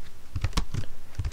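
Computer keyboard keys pressed in a short burst of separate clicks while working in the Notepad++ text editor, close and fairly crisp, with no voice over them.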